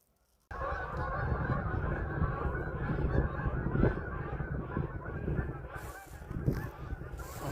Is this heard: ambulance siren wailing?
no